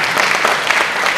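An audience at a devotional discourse on the Srimad Bhagavatam claps together in a steady, loud round of applause, dense and continuous throughout.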